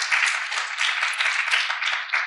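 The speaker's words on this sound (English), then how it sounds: "let's give a round of applause for that" An audience at a museum talk applauds with steady, even clapping throughout, heard at a moderate, slightly distant level with no voices over it.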